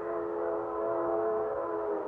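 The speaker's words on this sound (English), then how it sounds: "Oh, that train whistle." A steady train whistle holds a sustained, fairly loud harmonic tone for the whole stretch, with no voices over it.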